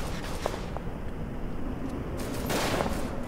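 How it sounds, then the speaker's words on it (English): Sustained, loud bursts of machine gun fire rattle through a World War I battlefield in the shooter game Verdun, with dense overlapping shots and no speech. "Lay down some machine gun fire."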